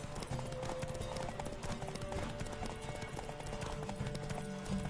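Rapid, steady clip-clop of horse hooves close up in the video game The Witcher 3: Wild Hunt, a continuous trotting rhythm with a faint tonal hum underneath.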